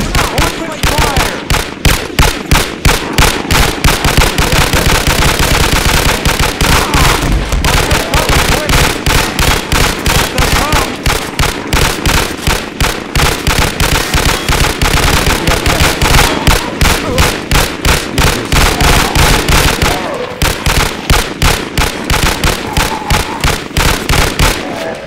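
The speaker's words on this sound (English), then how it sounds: "Open fire!" Dense automatic gunfire from security guards in the video game Garry's Mod, continuous rapid bursts filling the whole stretch, loud and close with little pause, shouted voices faintly under the shooting.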